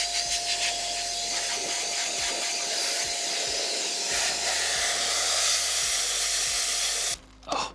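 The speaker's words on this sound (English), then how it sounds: "first I think we need to give this a bit of a dust bust" A forceful, loud blast of air clears dust out of an old desktop computer, a continuous roaring whoosh close by that cuts out abruptly near the end.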